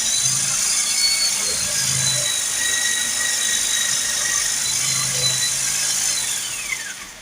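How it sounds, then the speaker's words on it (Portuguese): An oiled hand saw cutting through the metal body of a 50 cm diesel burner stove, a close, loud, continuous grinding rasp with a faint squeal rising near the end. "Então, utilizo aqui a serra."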